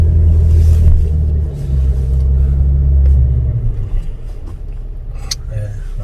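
A heavy car on a desert dune safari, its engine rumbling loud and close with a deep steady drone that dips and rises, while people talk over it.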